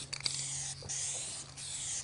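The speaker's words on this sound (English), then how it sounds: "When spraying the color, or really any paint, hold the can 8 to 10 inches from the surface" A DupliColor Perfect Match spray paint can hisses in a close, continuous burst, with a few short taps and a brief break midway before the spray resumes.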